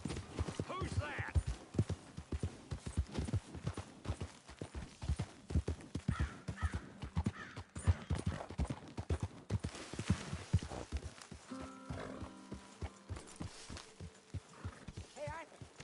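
Horse hooves clop in a steady rhythmic beat in a PS4 game, with occasional whinnies and bird caws, and voices speaking over it at times.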